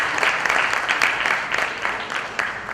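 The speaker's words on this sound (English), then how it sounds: "Big round of applause, please" Applause from the audience at the valedictory session of the Yi Regional Summit in Vadodara: a steady, crowded patter of clapping hands, fairly loud and close, continuing evenly across the whole stretch.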